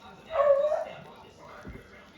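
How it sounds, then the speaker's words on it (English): A dog barks once or twice in the distance, faint and brief, while someone talks nearby in a home kitchen while smoked beef barbacoa is prepared. "You hear that dog barking?"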